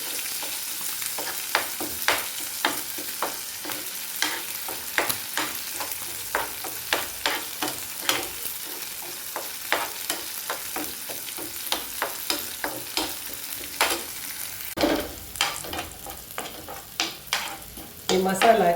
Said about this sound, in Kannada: ಈ ಮಸಾಲವನ್ನು ಚೆನ್ನಾಗಿ ಫ್ರೈ ಮಾಡಬೇಕು.